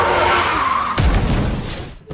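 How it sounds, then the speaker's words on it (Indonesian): A car speeds in at full speed with tires skidding, then slams into another car in a sharp, loud crash that is followed by a rumbling scrape fading out. "tiba-tiba sebuah mobil datang dengan kecepatan penuh dan menghantam mobil itu"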